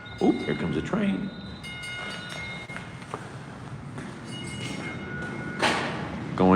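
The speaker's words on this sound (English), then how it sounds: "Oh, here comes a train." An RTA Green Line light rail train arrives, its rumble and rail rattle rising over steady background noise, with a brief thump and a higher squeal near the end.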